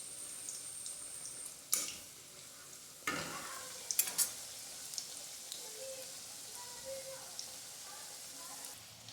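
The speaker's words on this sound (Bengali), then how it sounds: "এই দেখুন লাল লাল করে ভাজা হয়ে গেছে" Ripe palm fruit pitha sizzles and crackles steadily in hot oil, with sharper spattering bursts and occasional stirring clatter close by.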